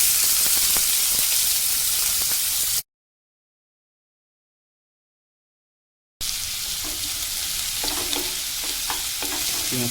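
Onion, added after a little sugar was browned for colour, sizzles and hisses in a hot pan. The frying starts loud and steady, breaks off into a silent gap, then resumes with faint stirring scrapes.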